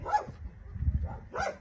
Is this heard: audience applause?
no